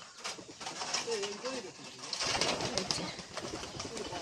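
Pigeons cooing at their wooden coop beside a house, soft throaty coos repeating close by amid yard noise and some movement.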